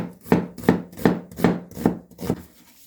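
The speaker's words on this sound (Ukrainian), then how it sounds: "цибульку подрібнюємо, я думаю, що так навпіл. Не дуже дрібно." A knife chops an onion on a cutting board in six even strokes, a steady rhythm of crisp thuds close by.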